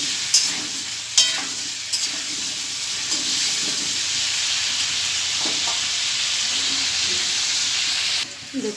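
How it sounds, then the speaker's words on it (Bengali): Chicken, potato and pumpkin curry stirred in a hot pan: a steady close sizzle runs throughout, broken by a few sharp scrapes and clacks of the spoon, with no talking. "আর একবার নেড়ে দেবো"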